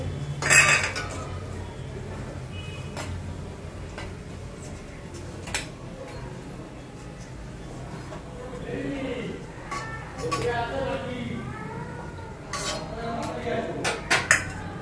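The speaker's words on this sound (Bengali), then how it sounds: "ধনেপাতার বড়াটা হয়ে গেছে, আমি এবার তুলে নিচ্ছি" Fried coriander-leaf fritters lifted out of a pan of oil with utensils, bright metallic clinks and scrapes at irregular intervals over a soft bubbling background, close by, with a voice speaking in between.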